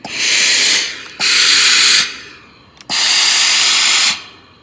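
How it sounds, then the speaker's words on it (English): A handheld fabric steamer gives three long, loud bursts of hissing steam, each lasting over a second, separated by short pauses with faint clicks of the trigger. "a lot of steam there"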